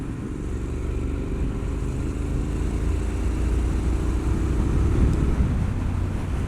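A 2020 Triumph Street Scrambler 900 motorcycle cruising, a constant low engine rumble mixed with wind roar that swells slightly toward the end, no talking.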